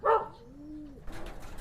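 Racing pigeons coo as they come back to the loft after flying. A single low, drawn-out coo rises and falls, preceded by a brief brighter burst and followed by faint rustling. Fairly quiet and close.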